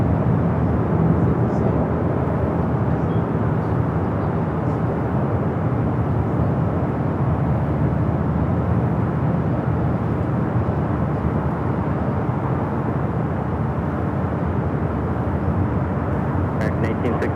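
A steady, loud roar from a fixed-wing airliner rolling down runway 25 Right at LAX, constant and unbroken throughout.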